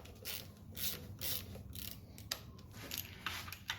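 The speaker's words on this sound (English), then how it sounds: "since I already have a ratchet in my hand" A hand ratchet works loose the starter bolts on a Johnson Evinrude outboard motor, making rapid, close clicking bursts with short pauses between strokes. No one speaks.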